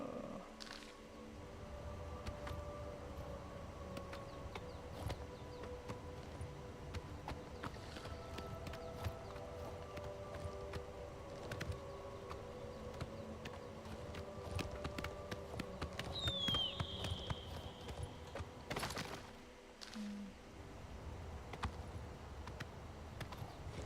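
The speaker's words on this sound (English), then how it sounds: "Alright, let's get back on our horse." A horse clip-clops along in the video game Oblivion Remastered, a faint, steady patter of hooves under game ambience and a soft sustained hum, with no talking.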